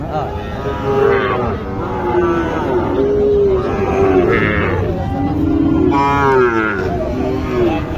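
Sahiwal heifers at a busy cattle market in Naogaon low repeatedly in a run of loud, drawn-out moos, one after another across the clip, over a steady crowd murmur.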